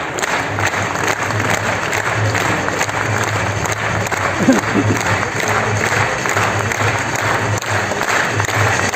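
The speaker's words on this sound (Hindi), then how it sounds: "एक बार जोरदार तालियां" Loud, sustained applause from a large crowd at an RCM business academy gathering in Bhilwara, a continuous wash of clapping with a faint low hum beneath and a few brief cheers.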